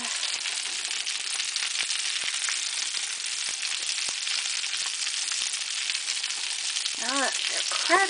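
Swedish meatballs crowded together in a frying pan give off a continuous bright sizzle and crackle, with scattered pops. Near the end there are a few brief scraping or squeaking sounds as they are moved.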